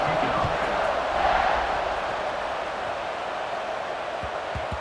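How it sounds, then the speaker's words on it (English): A stadium crowd buzzes in a college football video game after a score, a dense, loud, continuous roar of cheering voices swelling slightly early on, with commentary talk mixed in. "this crowd is buzzing after that last score"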